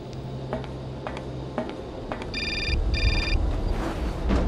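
A telephone rings twice in the 2002 PC game Syberia, each ring a bright electronic trill. Soft ticking precedes them over a low ambient background.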